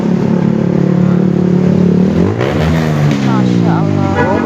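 Loud traffic beside a busy main road, with a car engine droning and then shifting pitch as a vehicle accelerates past nearby, constant and close.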